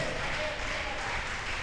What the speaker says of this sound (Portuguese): Aplaude a Jesus e dá um glória a Deus por essa palavra